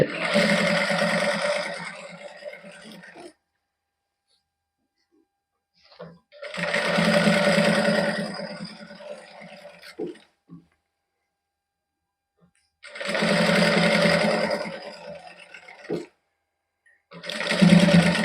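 Sewing machine stitching lace onto the hem of an embroidered suit, running in three or four bursts of a few seconds each, separated by quiet pauses, with someone talking in between.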